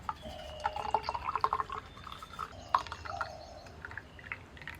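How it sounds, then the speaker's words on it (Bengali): A milk and curd mixture is poured slowly into a raw green bamboo tube, giving soft, close trickling and dripping with small splashes that come and go. "এবার আস্তে আস্তে বাঁশের ভিতরেতে লিকুইডটাকে ঢেলে দিচ্ছি"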